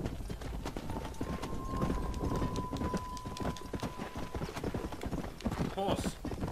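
Horse hooves clip-clopping in Red Dead Redemption, a quick steady beat of hoofbeats close up, with a brief whinny near the end and talk heard over them.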